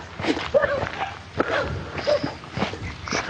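A dog gives short breathy barks and whimpers close by, along with footsteps, while people talk over it.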